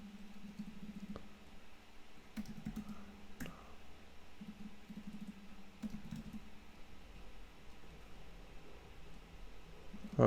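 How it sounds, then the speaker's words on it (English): Soft, scattered keystrokes tap on a computer keyboard against a steady background hum, light irregular clicks spread across the stretch with no talking. "what happens if we just type in user?"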